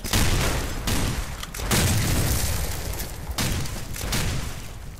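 Weapon fire in the first-person shooter Cube Conflict, a dense stretch of loud, continuous shots and booms with short pauses between bursts, dominating the mix with no talk.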